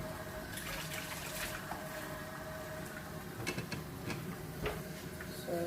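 Running tap water rinsing red fruits for a smoothie, a steady close splashing hiss with small clinks and knocks of the fruit moving under the stream.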